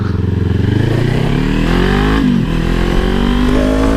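A Kawasaki Z or Ninja 400 motorcycle fitted with a Fuse Racing exhaust, loud and close, its engine note rising through a rev, dipping briefly, then climbing again.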